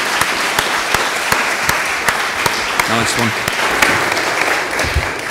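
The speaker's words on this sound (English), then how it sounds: "can I just ask that you give a round of applause to our panel" Audience applause for a conference panel on digital and cultural collaboration, steady clapping from a crowd with a few sharper claps near the mic, while a voice speaks briefly in the middle.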